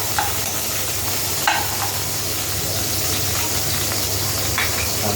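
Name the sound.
ginger and garlic sautéing in a pan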